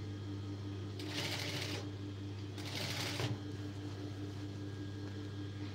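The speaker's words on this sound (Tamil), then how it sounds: "அது மேலேயே தையல் போடுங்க" A sewing machine stitches piping onto fabric in two short rapid bursts of rattling, motor-driven stitching, close by, over a steady low hum.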